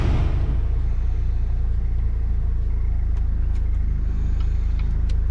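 2008 Saturn Sky Redline idling after a battery change, a steady low engine rumble throughout with faint ticking valve noise from valves needing adjustment, a few light clicks above it.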